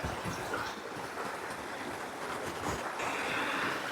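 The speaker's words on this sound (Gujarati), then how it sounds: "અત્યારે અમે ડુંગર પરથી પાણી આવે છે એ જોવા આવ્યા છે" Water tumbling down a hillside as a small waterfall makes a steady, full rushing wash, close by and unbroken, with no voices.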